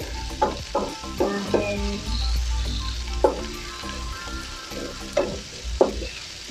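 Cabbage frying with salmon belly in a pan, a steady loud sizzle with repeated stirring scrapes and clatters breaking through at irregular intervals.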